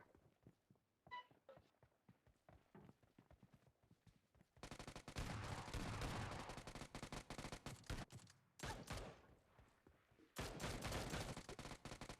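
Gunfire in the BGMI mobile game comes as dense, sustained bursts of automatic shots that stop and start, with lighter clicks and footsteps between the bursts.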